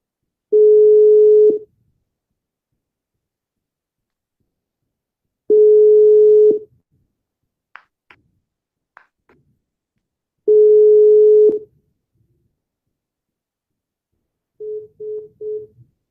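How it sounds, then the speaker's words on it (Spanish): Outgoing WhatsApp call ringback: three long, evenly spaced steady tones about five seconds apart, loud and clean, then a quick burst of short beeps at the end, with faint clicks between. "Lo que está llamando por WhatsApp, creo."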